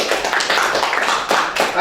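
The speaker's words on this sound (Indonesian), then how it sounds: "Ya, tepuk tangan." A class applauds together, a dense run of overlapping claps at close range that fills the whole moment, with talk mixed into it.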